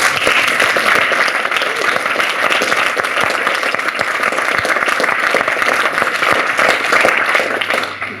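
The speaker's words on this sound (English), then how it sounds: "So give a round of applause for all the speakers." An audience at a closing ceremony applauds the speakers, a dense, sustained wash of many hands clapping at close range that holds steady for several seconds before starting to thin at the end.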